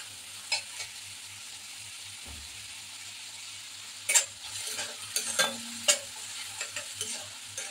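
Chopped onion frying on a slow-medium gas flame for moth bean usal, a soft steady sizzle with scattered scrapes and clinks of a spoon stirring in the pan, sparse and close, no talking.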